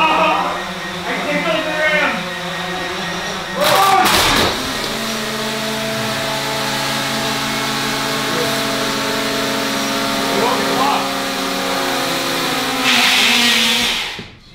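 Small drone motors whirring at a steady, sustained pitch for most of the stretch, loud and close, with a brief louder burst near the start and another near the end.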